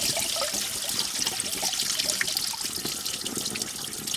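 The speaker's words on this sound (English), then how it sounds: "And we put a pan underneath, so hopefully we'll get most of it caught." Antifreeze pours and splashes steadily from a Chevy Impala engine into a drain pan, a continuous close trickle with no talking.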